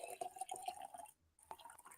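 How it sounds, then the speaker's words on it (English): Water pours in a run of small drips and splashes, pausing briefly before resuming, with the sound close by and fairly quiet. "The sound of pouring water"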